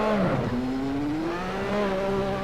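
A turbocharged Lotus 98T Formula 1 car in Assetto Corsa screams through rising and shifting revs, a loud, high-pitched engine note that climbs, dips at a gear change and climbs again, heard alone.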